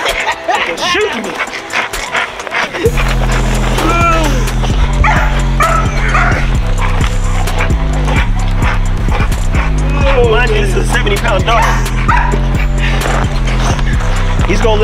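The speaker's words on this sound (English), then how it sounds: "Dog." Dogs during a spring pole session, with repeated barks and yips over loud, steady music and voices talking throughout.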